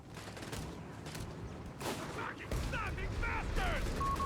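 Machine gun fire and battlefield explosions from a Company of Heroes 3 1v1 match, with steady bursts of gunfire and rumbling booms layered under game effects; faint voice-like tones appear but no clear talk.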